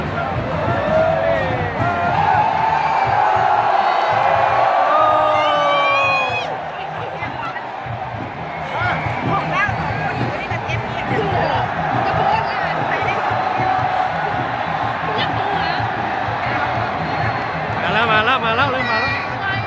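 Cheering squad crowd at a national day event between Luang Prabang and Champasak supporters, with loud, continuous distant cheering, whoops and babble, including high shouted calls and whistles.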